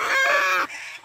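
A hen gives one loud, drawn-out cackle up close, then trails off into quieter clucking.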